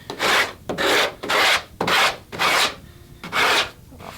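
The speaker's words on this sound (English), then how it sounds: "I got using a round bottomed longboard here, and using this sort of sweeping action" A round-bottomed longboard sands the hull of an International 2.4mR sailboat in sweeping strokes, six loud rhythmic rasping passes with brief gaps between them.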